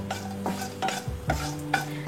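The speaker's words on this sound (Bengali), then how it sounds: "যখন সর্ষেটা চিরবির করতে আরম্ভ করবে" Whole mustard seeds and four dried red chillies sizzling in hot oil for a tempering, with a spoon scraping and stirring in short repeated strokes over a soft crackle, close up with no talking.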